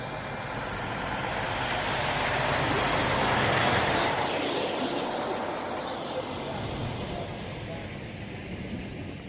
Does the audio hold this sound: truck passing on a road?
yes